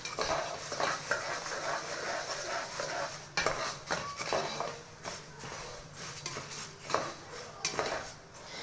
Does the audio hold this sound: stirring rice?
yes